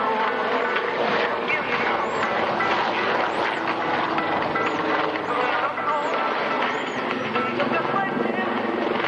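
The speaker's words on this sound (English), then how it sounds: "The Lynx now pulling up for another unusual maneuver for helicopter pilots and enthusiasts, the hesitation pedal turn." Westland Lynx helicopter flying a hesitation pedal turn at an airshow, a loud steady rotor and engine roar that holds throughout with faint chirping above it.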